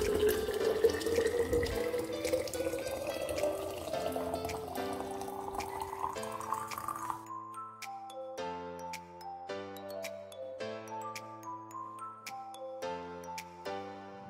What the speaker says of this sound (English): Now let's pour hot water into it.